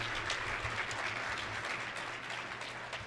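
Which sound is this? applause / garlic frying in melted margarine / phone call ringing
applause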